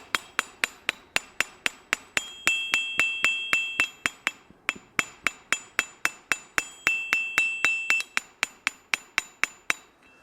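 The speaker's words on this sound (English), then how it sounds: "The ring of an anvil is due to the anvil's shape" A hammer strikes a steel anvil in a fast, steady rhythm, each blow ringing out brightly with a lingering metallic tone, briefly pausing midway.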